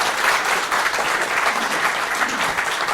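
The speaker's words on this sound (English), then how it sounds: "Can we have a round of applause, please?" A live audience at a Crossed Wires podcast recording gives guests Sarah Brooksbank and Ross Orton a full round of applause. The clapping is dense and even, holding steady for a few seconds.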